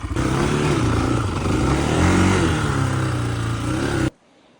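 Kovi ADT300 motorcycle engine revving steadily and loudly up close, holding a rough throbbing drone with a slight rise and fall before cutting off abruptly near the end.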